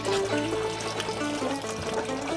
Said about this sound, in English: We're keeping water on the fish, on its gills, and we're also keeping water on its body to keep it cool